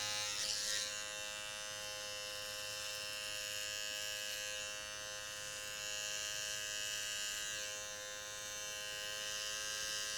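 A hair trimmer cuts a line for a low fade, holding a close, steady electric buzz with a bright whine that barely varies over about ten seconds, alone with no talking.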